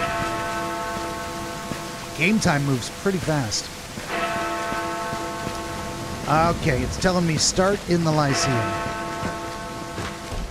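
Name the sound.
rain falling outside in a video game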